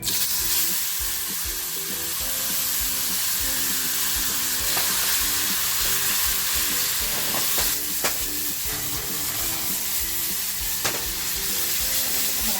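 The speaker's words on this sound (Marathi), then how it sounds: "तेल छान आपलं तापलेलं आहे थोडंसं हिंग टाकते आणि जो मसाला आपण तयार केलेला आहे तो टाकते" Asafoetida and a homemade spice masala hit hot oil for a Bombay duck chutney, producing a loud, continuous close-up sizzle with stirring scrapes and no speech.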